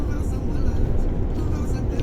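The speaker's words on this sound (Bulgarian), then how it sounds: "Много е тих камиона." A Ford truck engine heard from inside the cab gives a steady, low droning rumble, an even hum of road and motor noise that stays constant throughout.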